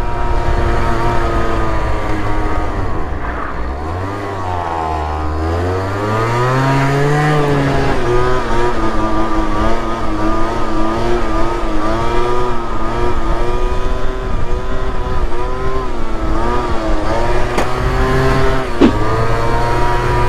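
A Booster Spirit scooter engine drones loudly and steadily while riding a wheelie downhill, its buzzing pitch dipping and then rising as it speeds up, close and continuous throughout.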